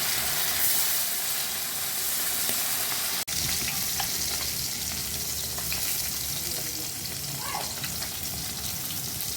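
Bata fish frying in hot oil in a pan, giving off a loud, steady sizzle and crackle that goes on without a break, with a brief dip partway through.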